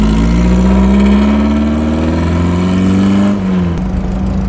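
Loud engine of a finished custom-built car, a heavy droning rumble held near and steady that eases slightly in pitch near the end.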